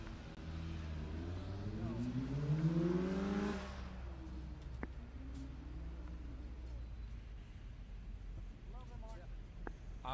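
A Corvette circles an autocross course, its engine rising in a swelling rev that peaks and then fades away into a steady distant hum with faint outdoor noise.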